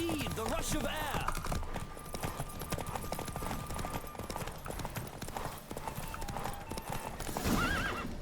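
Galloping horse hooves in The Witcher 3 during a race, a fast continuous clip-clop close up over music, with horse whinnies near the start and end.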